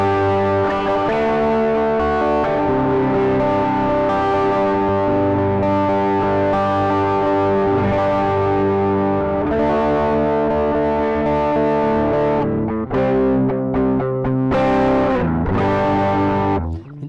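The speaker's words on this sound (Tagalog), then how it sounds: "Para siyang ano lang, parang transparent na overdrive lang." Electric guitar played through a Joyo Baatsin overdrive pedal with the tone control turned down, giving a mildly driven, transparent sound as sustained chords and notes ring continuously for about seventeen seconds.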